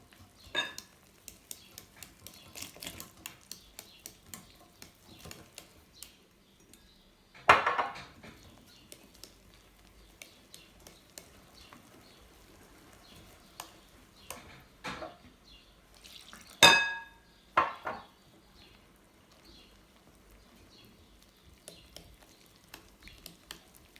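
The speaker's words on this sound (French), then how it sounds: "On ne s'arrête pas de mélanger." Pancake batter being stirred in a bowl while milk is gradually added, giving soft repeated scraping and clinking of utensil against the bowl, with a few sharper knocks scattered throughout; no talking.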